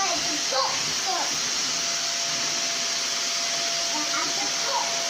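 A Hoover vacuum cleaner runs steadily indoors, a loud continuous whooshing hiss with a faint whine throughout, used by a child picking up crumbs under a table, with faint voices barely audible beneath it.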